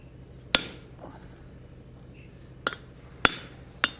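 A hammer strikes a hot cut through forged steel on an anvil, making four sharp metallic blows with irregular gaps between them, loud and close with ringing clinks.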